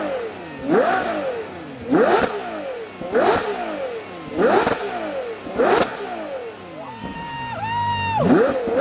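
A 2025 Aston Martin Vanquish V12 barks through five sharp, evenly spaced throttle blips, each rising and falling quickly. It then settles into a sustained, wavering higher tone at the end.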